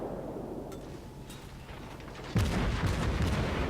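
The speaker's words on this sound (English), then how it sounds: "Back on firing at the Kuma." Warship guns firing at the light cruiser Kuma in a naval combat video game: distant muffled booms over a low rumbling background, with a louder, heavier report about two-thirds of the way in.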